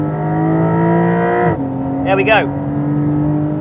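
Porsche 911 Carrera GTS of the 992 generation accelerating hard on a track, its loud engine note climbing steadily and then cutting at a gear change before pulling again, with a brief spoken remark inside the car.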